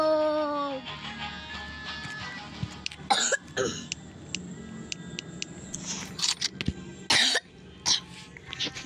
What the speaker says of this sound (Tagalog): lumalakas yung ubo ko